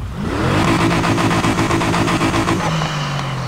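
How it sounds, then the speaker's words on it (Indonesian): A V8 engine swapped into a Honda Civic Type-R in the racing game Need for Speed revs up hard and holds a loud, steady, throaty roar before easing off slightly near the end, with no talking. "Oh, yang terakhir V8 nih."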